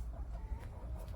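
Ornamental backyard hens clucking softly and continuously, a low murmuring chorus of fowl close by with no speech, steady and even throughout.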